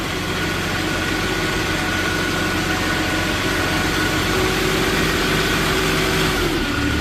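A 2015 Moffett M55 truck-mounted forklift engine runs steadily throughout, a constant mid-to-low idling drone at close range with no talking.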